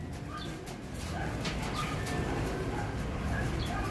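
A banded racing pigeon coos in soft repeated low calls close by, over a busy outdoor background with faint bird and dog noises.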